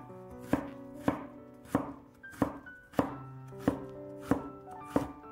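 A knife cuts half a peeled carrot into thin slices on a cutting board, with about nine crisp, evenly spaced thuds close up and no talking.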